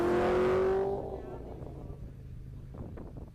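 A Subaru WRX race car roars past at close range while crossing the finish line at an autocross event, engine loud at first and then fading into wind and distant rumble, with a commentator talking over it.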